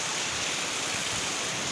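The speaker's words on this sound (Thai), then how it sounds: "เอาน้ำตกจากธรรมชาติเนาะ" A natural waterfall roars as a constant, dense broadband rush of water, steady and enveloping, with no voices or other distinct sounds.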